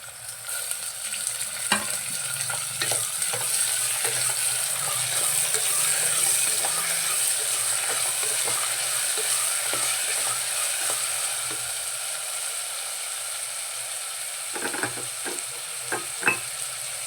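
Cut tomatoes go into a pan of frying village-style sour upma, raising a steady sizzle throughout, with scattered clinks and scrapes of stirring and a few sharper knocks near the end, and no talking.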